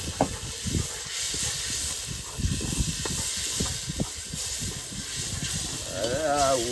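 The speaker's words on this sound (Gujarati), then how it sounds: "વાવ, વઘાર થયો." Spices with turmeric and chilli sizzling in hot oil for a vaghar while cooking crab on a fishing boat, a continuous close hiss broken by knocks and clanks, with people talking over it.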